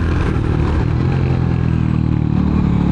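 A Royal Enfield Hunter 350 motorcycle climbing a hill in third gear at steady speed, with a constant, close single-cylinder engine drone and wind rush, no voices.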